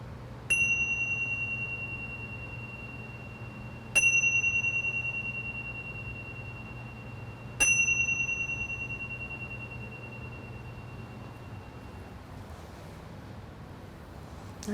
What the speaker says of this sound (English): when you hear the sound of the bells, you can open your eyes.